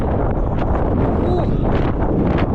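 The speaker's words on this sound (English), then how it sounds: "It's a windy one today, folks" Strong wind buffets the microphone on the exposed fell of Coniston Old Man, a continuous loud rushing roar with gusty swells throughout.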